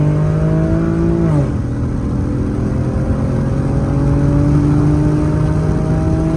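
A car's engine roars steadily and close as the pedal is floored, its pitch dropping briefly and then climbing slowly as it accelerates, with no one talking.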